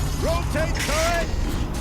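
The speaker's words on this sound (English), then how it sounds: "Rotate turret!" Turret rotation mechanism in Horizon Zero Dawn: a short creaking, ratcheting mechanical whine with a few rising squeals over a low rumbling game background, lasting under two seconds.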